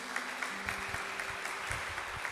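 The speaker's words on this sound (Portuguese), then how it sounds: "Posso ouvir uma salva de palmas assim para a palavra de Deus?" Church congregation applauding after a sermon reading: a steady wash of many hands clapping, somewhat distant and even, with a low hum of room tone beneath.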